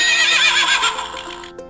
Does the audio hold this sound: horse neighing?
yes